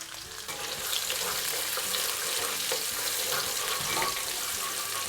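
Ginger, garlic and red chilies fry in hot oil for veg noodles, giving a loud, steady, close sizzle that holds without a break throughout, with faint stirring underneath.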